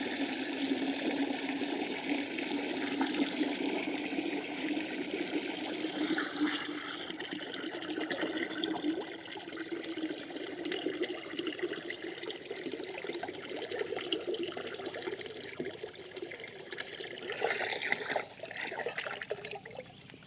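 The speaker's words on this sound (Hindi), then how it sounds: "बाल्टी में दवा बनाना है तो पहले हम पानी ले लेते हैं इसमें।" Water from a tap runs steadily into a bucket in a garden, a continuous hissing, splashing stream that fills it for mixing a pesticide spray, close and alone without any talk.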